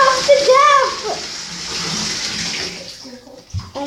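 A bathtub fills with water from the tap for washing a dog, a loud, steady, close gush of running water, with a voice and other voices speaking briefly over it near the start and end.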